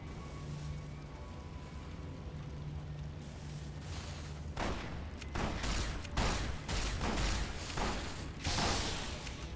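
Loud gunfire in Fallout: New Vegas, a run of heavy booming shots from an anti-materiel sniper rifle firing in the second half amid rumbling game ambience, with no talk.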